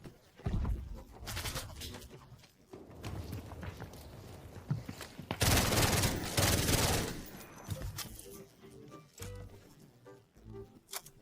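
Bursts of gunfire echo from a vault room in the Delta Force shooter game, irregular clusters of shots, some sharp and near, others muffled and distant, with scattered impacts between volleys and no talking.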